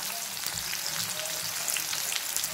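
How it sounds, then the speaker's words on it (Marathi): Finely chopped onion sautés in a pan for a samosa filling, giving a steady, close crackling sizzle that holds evenly from start to finish with no voices. "आता 1 कांदा बारीक कापून घेतलेला आहे, याला सोनेरी कलर येईपर्यंत परतवायचा आहे"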